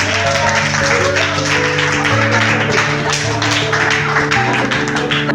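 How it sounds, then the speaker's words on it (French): A crowd at a debate on women's role in society applauds the women, a dense, steady wash of clapping that holds loud and unbroken throughout, with sustained tonal notes humming underneath. "on applaudit pour vous les femmes"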